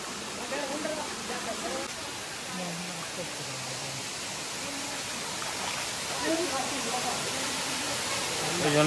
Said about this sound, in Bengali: চারদিকে নিস্তব্ধ জঙ্গল আর ঝর্ণার আওয়াজ, সুন্দর ঠান্ডা পরিবেশ